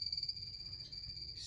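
Small dart frogs calling in a terrarium tank, a thin, high, steady trilling buzz that holds for about a second and then breaks off briefly, faint and alone.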